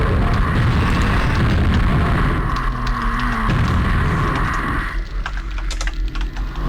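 Rocket launcher firing and explosions in a video game, a dense roaring blast that rumbles continuously, then thins into crackling, splintering debris toward the end.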